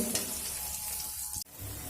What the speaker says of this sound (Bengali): ঢাকা দিয়ে দিয়ে আলুটা আমি নরম করে ভেজে নেব